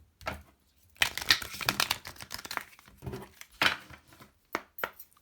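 Oracle cards shuffle close to the ear in quick papery riffles and soft slaps, in several short bursts separated by brief pauses.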